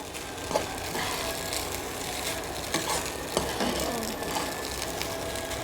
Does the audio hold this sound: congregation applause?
no